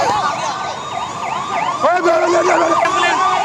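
An ambulance siren wails steadily and loudly as it passes through a street protest march, its repeating rising-falling tone dominating with faint crowd murmur beneath.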